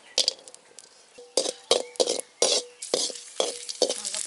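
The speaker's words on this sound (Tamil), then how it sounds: "இதை வந்து முந்திரி திராட்சையும் நம்ம நெய்யிலே போட்டு வறுத்து எடுத்து வச்சுக்கலாம்." Cashews and raisins frying in ghee in a pan, with a light sizzle under a series of sharp clinks and scrapes as a spoon stirs them, about a dozen close, uneven strokes.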